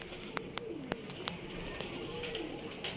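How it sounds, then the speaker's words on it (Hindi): A female pigeon coos softly in low repeated notes, with a few sharp clicks or taps over faint background noise. "ये इसकी कबूतरी है"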